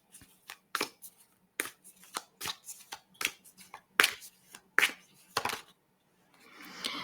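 Oracle cards shuffled by hand in a quiet room, a quick irregular series of crisp riffling bursts up close, ending in a softer rustle, with no voices.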